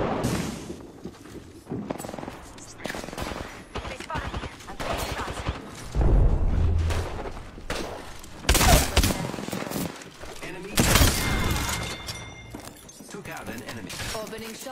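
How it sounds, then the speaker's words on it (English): Bursts of automatic weapon fire and explosions in the battle royale video game Apex Legends, dense and continuous with overlapping shots and impacts, under in-game announcer voice lines. "They're shooting at me!"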